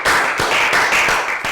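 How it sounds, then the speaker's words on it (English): Classroom applause from a Year 3 class, a short burst of dense, loud clapping from many hands, with a few stronger claps standing out. "A round of applause for everyone"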